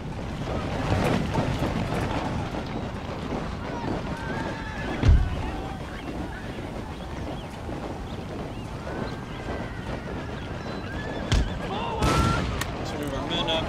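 Horses of horse artillery in an American Civil War battle video game neigh and whinny loudly amid clip-clopping hooves, with occasional sharp gunshot-like bangs and battlefield bustle in the background.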